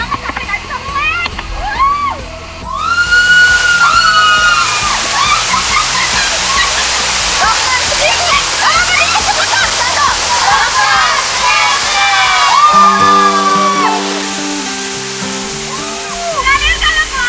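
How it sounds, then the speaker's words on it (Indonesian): Powerful Benang Kelambu waterfall at the foot of Mount Rinjani, Lombok, roaring and splashing steadily throughout, with chirpy high-pitched voices and music-like tones layered over the water. "air terjun itu kenceng banget sampai nggak bisa melek"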